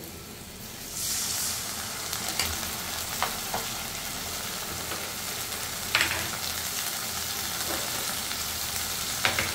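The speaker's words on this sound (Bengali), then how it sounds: "আমার মরিচ পেঁয়াজগুলো ভাজা হয়ে গিয়েছে, এখন আমি একটু পানি দিয়ে দেব মরিচ পেঁয়াজগুলো যেন না পড়ে।" Water poured onto fried green chilies and onions in a pan bursts into a loud, sustained hissing sizzle after a quieter start, with faint stirring clicks and no talking.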